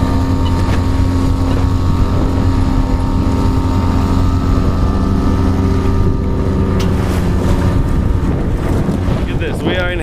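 A sailboat with its sail just pulled in pushes through crazy turbulent water at Hell Gate in New York, with steady loud engine drone, rushing water and wind buffeting the microphone throughout.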